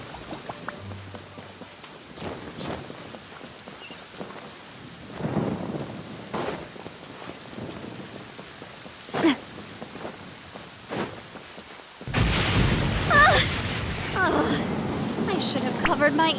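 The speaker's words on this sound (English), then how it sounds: "raining again" Rain and thunder in the video game Genshin Impact: a steady rainfall hiss broken by several low rumbles and thunder cracks, ending in a loud, close downpour.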